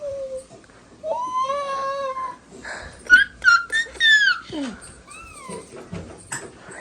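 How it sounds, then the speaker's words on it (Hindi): A male cat outside a house meows in a series of long, rising and falling calls, close and fairly loud, with pauses between them and a soft voice or two in the background. "बाहर से बिल्ला म्याऊं कर रहा"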